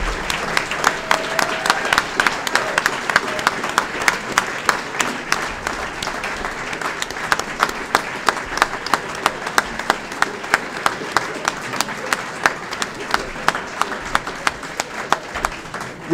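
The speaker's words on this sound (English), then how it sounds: "One more round of applause." Sustained audience applause fills a lecture hall after a talk in a lecture series, dense and steady for the full stretch with sharp individual claps standing out, fairly loud and with no voices over it.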